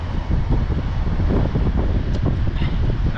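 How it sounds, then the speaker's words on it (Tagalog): Strong wind roars steadily outdoors at a rough-weather seaside fishing and cooking spot, a continuous loud rumble buffeting the microphone with no voices. "Lakas ang hangin."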